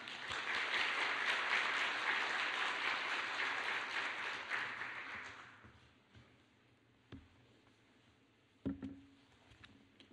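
A church congregation applauds to welcome the pastor at an afternoon service, a broad wash of clapping for about five seconds that fades into a quiet room with a few scattered knocks and shuffles.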